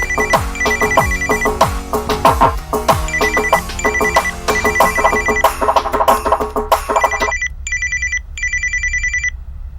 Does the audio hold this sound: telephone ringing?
yes